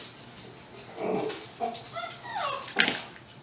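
A dog whimpers sadly in short, high, plaintive whines and yips, close and moderately loud, rising and falling in pitch over a few seconds.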